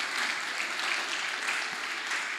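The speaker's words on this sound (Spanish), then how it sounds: "vamos a darles un fuerte aplauso a cada uno de ellos" An audience claps together in a steady, dense burst of applause, even and sustained throughout, somewhat distant and moderately loud, with no voices over it.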